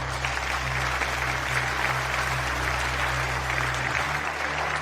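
Sustained applause from a studio audience at a design competition show, dense and steady clapping that continues throughout under a low musical hum.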